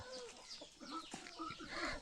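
Roosters clucking and calling nearby on a farm, a busy cluster of short bird calls, fairly faint overall.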